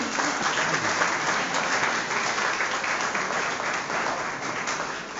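Sustained audience applause fills a hall at a World Theatre Day drama event, a steady dense wash of many hands clapping at full loudness throughout with no talk over it.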